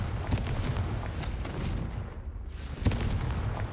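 Confringo blasting spell explosions in Hogwarts Legacy: two sharp booming blasts over a continuous rumbling roar, loud and close, with no voices.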